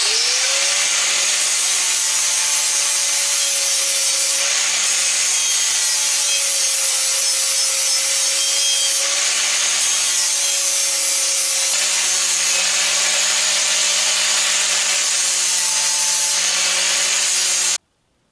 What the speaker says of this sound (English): I'm going to take an angle grinder. I'm going to smooth all this out so this looks like one solid bumper